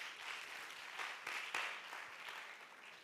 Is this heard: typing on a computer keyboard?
no